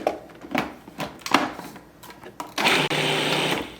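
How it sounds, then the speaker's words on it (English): An electric blender grinds almonds with cardamom powder for barfi; a loud, steady whirring burst kicks in near the end after some quieter clattering handling sounds, with no speech. "I'm going to add about 1 teaspoon, eyeballing, and I'm going to blend this again"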